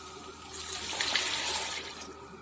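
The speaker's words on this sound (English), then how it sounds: "So now I add in water." Water pours into a pot of rice cooking with tomatoes and frozen vegetables, a rushing splash that builds after a quiet start, peaks in the middle and tapers off, heard close with no talk.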